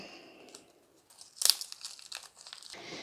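Dry onion skin crackles and crinkles as it is peeled by hand, a few quiet, brittle rustles with a sharper tearing burst in the middle.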